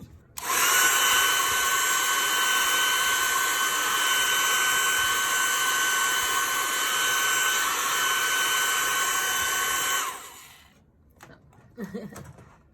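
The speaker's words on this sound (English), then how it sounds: "get my heat gun here, not on this because it'll melt the plastic, but on the, just kind of blow these around" A heat gun blows air in a steady, loud, close whirring roar for about ten seconds before it cuts off, leaving faint handling sounds afterward.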